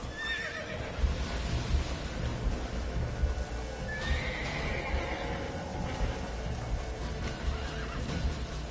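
Skittish Roach the horse in the game Witcher 3 gives two high, wavering whinnies, an early short one and a longer one midway, while hooves shuffle and stamp nearby over steady game ambience.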